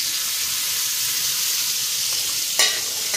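Cabbage fries in a pan with potatoes and bay leaves, giving a loud, continuous hiss of sizzling oil with a sudden sharper crackle near the end and no voices.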